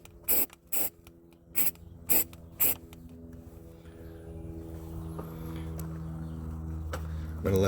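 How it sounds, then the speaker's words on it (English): Aerosol can of bed liner paint sprayed onto a 1995 Jeep Wrangler YJ hood latch area: five short, sharp hissing bursts in quick succession, followed by a steady, rising background hum. "I've already shaken my bed liner up. I'll give it a quick spray."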